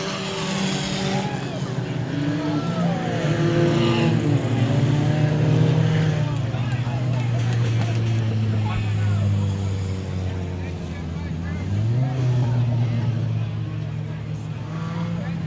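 Dirt track race cars at I-37 Speedway roar toward the checkered flag, a loud continuous engine drone with shifting pitch, and an announcer talks over it throughout.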